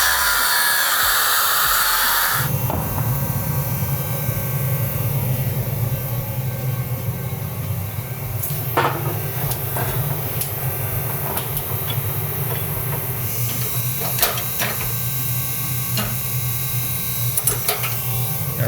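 Continuous loud whine of an angle grinder taking MIG weld beads off a forge-welded Damascus steel billet in a workshop, with sharp scraping spikes where the disc bites and a brief quieter stretch before it starts.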